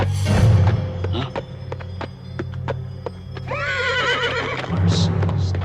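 A loud horse whinny rings out at the start, followed by hoof clip-clops and thumps in a cartoon scene, then a second wavering neigh, with other voices or sound effects around it.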